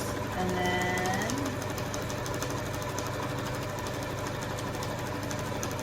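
A sewing machine stitching thick potholder fabric, a steady close mechanical whir running throughout with a voice talking over it near the start.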